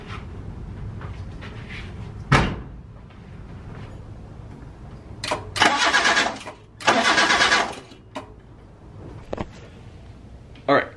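A Datsun 210 engine cranks on the starter without firing, in several loud grinding bursts of a second or so, separated by pauses and a few sharp clicks, close to the microphone.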